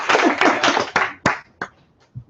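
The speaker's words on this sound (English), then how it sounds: "Let's clap for Max." A short burst of clapping from a small lecture audience that quickly thins out into a few scattered final claps.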